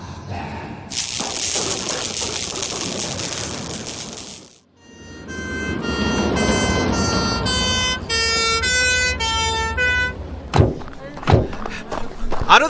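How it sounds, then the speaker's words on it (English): A loud siren wails and blares among engine and street noise, with shouting voices and clattering toward the end. "The ambulance is here!"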